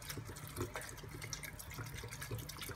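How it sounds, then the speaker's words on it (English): Water poured into a bowl to blend batter for Malaysian onion fritters (cekodok bawang), a soft, steady trickle with faint splashing, fairly quiet and continuous over a low background hum. "So I add a bit of water for the blending."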